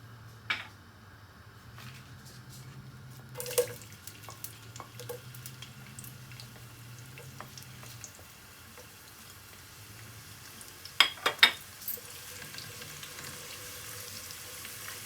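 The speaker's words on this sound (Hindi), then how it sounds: "अब इसके अंदर मैं सबसे पहले प्याज को फ्राई करूँगी" Onions fry in a little over half a cup of oil in a pan, a soft continuous sizzle up close, with a few sharp clatters and crackles breaking through near the end.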